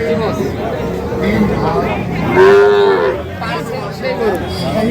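Cattle at the busy Amabari rural market moo, one long loud low call standing out amid crowd chatter and nearby talk, where Sahiwal breed bull calves are sold.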